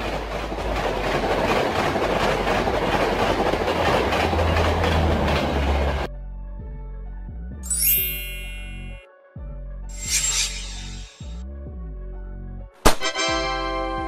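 A passenger train rolls along the rails with a loud, steady rumble and clatter for several seconds, then gives way to quieter, sparse sounds with bright chime-like tones and a short sharp burst near the end.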